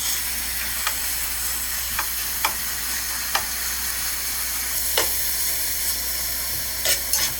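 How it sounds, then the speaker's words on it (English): Chopped lean turkey sizzles steadily with onions in a hot pan, a continuous close frying hiss broken by a few faint pops and clicks, with no talking. "So now we're going to add a pound of chopped lean turkey"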